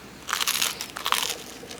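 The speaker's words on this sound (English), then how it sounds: "Nice crunch." A bite into a toasted cheese bagel spread with cream cheese gives a close, crisp crunch of several quick crackling bursts, followed by fainter crunching as it is chewed.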